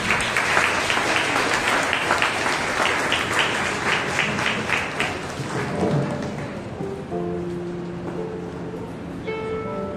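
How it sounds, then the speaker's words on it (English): Applause from a church fellowship gathering at a New Year prayer meeting, dense clapping that thins out and gives way to a murmuring room with a held tone or chime near the end. "let's clap for Greena"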